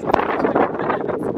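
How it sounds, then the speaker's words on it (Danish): Strong wind buffets an outdoor microphone in loud, continuous rumbling gusts that fill the short stretch without pause. "det var absurd blæser"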